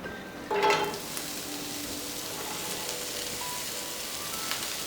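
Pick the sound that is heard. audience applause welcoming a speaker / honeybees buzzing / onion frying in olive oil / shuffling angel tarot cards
onion frying in olive oil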